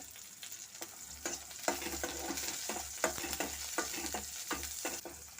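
Shallots and dried red chilies sauté in a pan, giving a soft sizzle under repeated close scraping and stirring taps from a spatula, quiet overall with no talk.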